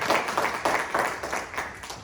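A church congregation claps loudly together in a burst of applause, with rhythmic pulses running through the dense clapping.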